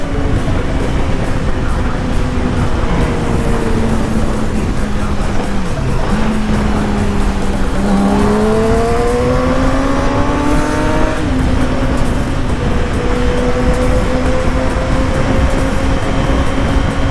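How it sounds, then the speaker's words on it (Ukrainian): Two motorcycles ride together, their engines droning loudly and continuously with rising and falling pitch as the riders shift and accelerate, the overlapping engine notes sweeping up and down close by. "звук такий класний з двома мотоциклами"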